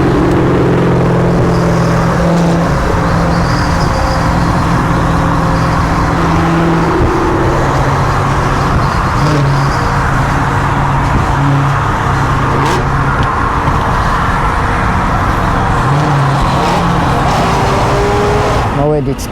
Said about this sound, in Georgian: აუ რა მაგარი მანქანები დადის